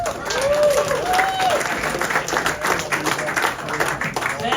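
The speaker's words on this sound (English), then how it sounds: "Please give a warm round of applause for the man himself" Crowd applause greeting a stand-up comedian taking the stage at a Cape Cod comedy show, with brisk clapping and a couple of cheers and whistles that rise and then settle.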